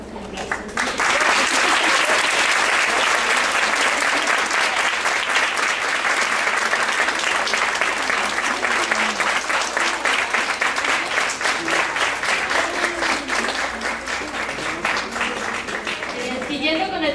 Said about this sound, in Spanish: le entregamos su constancia por su participación y pues un aplauso